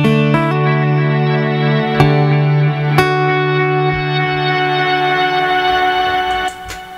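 Acoustic guitar run through an effects rig with reverb, sustained chords ringing with long washy decay and a few sharp strums marking new chords, played alone and close.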